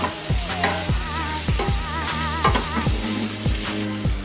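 Paneer stir-fried in a pan for Schezwan paneer noodles: a steady sizzle broken by regular scraping strokes of a spatula roughly every half second, close and fairly loud, with a musical backing underneath and no talking.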